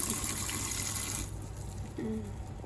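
Tap water runs steadily into a strainer of shelled corn, rinsing the kernels as the flow hisses close by, then drops to a softer trickle partway through.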